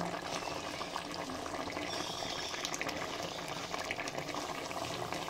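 Chicken masala simmers and sizzles in a pan with water, a dense, steady bubbling hiss heard up close and alone, without talk.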